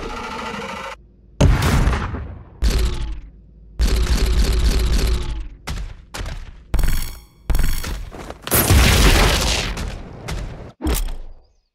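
Archvile fireballs and a summoned lake of fire in DOOM Eternal Battlemode, heard as a series of loud, abrupt bursting blasts and roaring whooshes with sharp onsets and short decays, separated by brief silences.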